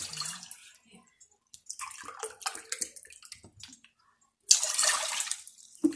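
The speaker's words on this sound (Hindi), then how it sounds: "2 कप मैं पानी डालने लगी हूँ।" Water is poured from a short height into a cooking pot on a stove, a faint intermittent trickle followed by a louder splashing gush near the end.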